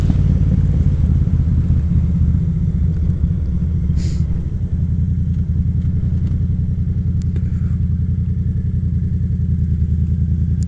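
A Yamaha FZ07 motorcycle engine heard close up, a deep, loud, throbbing rumble with a rise in revs partway through, then a steady pulsing idle, with no talking.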